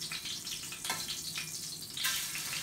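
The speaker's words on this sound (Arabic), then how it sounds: "ها هي ديت الكبده اللي تعرفها على طول من الطشطشه" Beef liver fries Alexandrian style in a hot pan, giving a steady close sizzle and crackle with a sharper burst of spitting toward the end.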